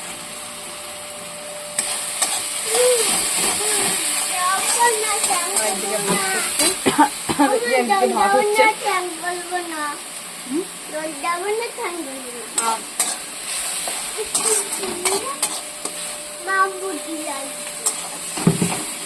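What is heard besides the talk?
frying onion with ginger garlic paste and chilli for chicken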